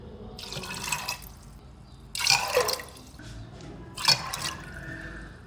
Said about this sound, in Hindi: 3 कप पानी डालूंगी मैं इसमें।